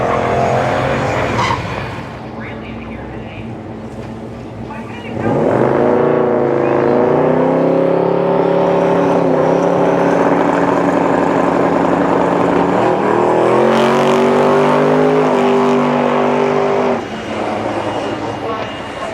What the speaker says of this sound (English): a car that's straight piped right out of a turbo next to you